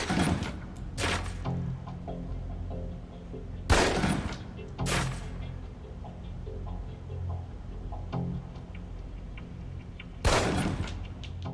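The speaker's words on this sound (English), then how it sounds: "Equip the pistol, then aim down range and take some shots at the target." Single pistol shots at a target range in Alpha Protocol, five or so sharp cracks spaced several seconds apart over a quiet, faintly ticking background.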